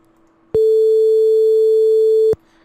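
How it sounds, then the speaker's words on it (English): A generated A4 sine tone at 440 Hz from Houdini CHOPs sounds as one pure, loud, steady beep lasting almost two seconds, starting and stopping abruptly against near silence. "this is actually playing again the A note, the A4, which is 440 hertz"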